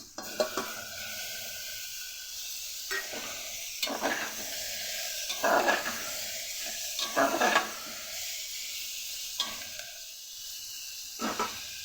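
Lightly fried potato and papaya sizzle steadily in a pan for a pumpkin-greens curry, with a few small shrimp dropped in. Repeated scraping stir strokes and clinks of a utensil against the pan sound close over the continuous hiss.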